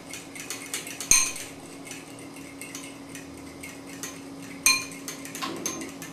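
A fork beating eggs in a bowl for spaghetti carbonara, rapid rhythmic clicking and tapping against the bowl, with two sharper clinks standing out, close and fairly loud, no voices.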